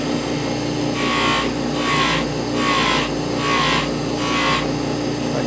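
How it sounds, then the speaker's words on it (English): A polishing machine hums steadily while a handmade ring is pressed to the wheel in five evenly spaced, roughly second-long bursts of harsh abrasive whirring, close and loud. "Polishing down like this so that if I polish this way, it will just kick the ring off."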